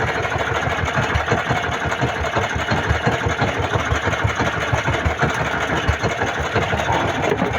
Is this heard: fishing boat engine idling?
yes